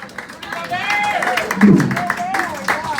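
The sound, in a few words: audience applause for Rudy Gobert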